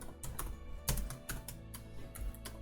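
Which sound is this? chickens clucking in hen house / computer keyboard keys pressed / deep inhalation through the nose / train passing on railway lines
computer keyboard keys pressed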